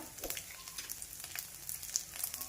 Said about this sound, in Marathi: शेंगदाणे दोन मिनिट तळून झाल्यानंतर एक चमचा उडीद डाळ टाकून घ्यायची यामध्ये हा जो लसण आहे तो पण यामध्ये टाकून घ्यायचा आहे